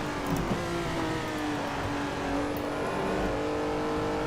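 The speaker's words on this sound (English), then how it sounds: "I can hear the cars driving under the crossover." Race cars in a Suzuka racing video game run under the circuit's crossover, a steady dense engine drone with continuous revving layered throughout and no talking.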